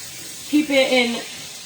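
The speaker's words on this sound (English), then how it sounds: "I'm just going to drain this off of here." Water draining off cut russet potatoes, a short close splashing pour lasting under a second that rises and tails off, with brief faint voice-like tones mixed in.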